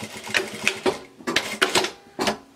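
Sewing machine backstitching on a fabric bag, running in short clattering bursts separated by brief pauses, close and fairly loud with no talk over it.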